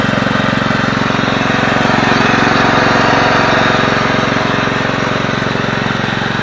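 The 15 hp engine of a Yardman riding lawn mower with a 42-inch deck idles close by, a loud, steady chugging putter with a fast, even pulse and no break.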